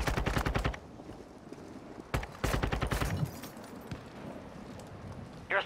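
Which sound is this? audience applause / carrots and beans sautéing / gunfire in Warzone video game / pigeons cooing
gunfire in Warzone video game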